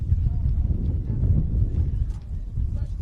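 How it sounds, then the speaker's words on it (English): Wind blows across a football pitch during a women's league match, a low, rumbling buffet against the microphone that gusts unevenly for a few seconds with no other clear sounds. "A little bit windy."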